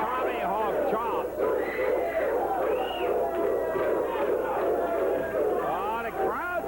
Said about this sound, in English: Oh, the crowd's getting into it.